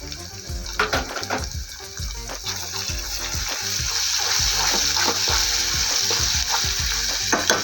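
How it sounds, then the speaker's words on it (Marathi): Oil sizzling and spattering steadily in a covered pan while cooking green pea pulao, a continuous close frying hiss with small crackles that grows slightly louder toward the end. "तेल अंगावरती उडते त्यामुळे मी आता ह्याच्यावरती झाकण करून ठेवते"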